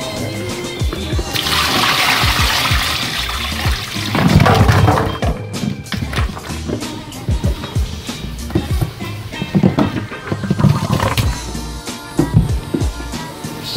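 Water is poured from a container in Sta. Ana, Manila, a loud splashing gush at first that breaks into irregular trickles and spatters, with clattering handling noises, and no one talks.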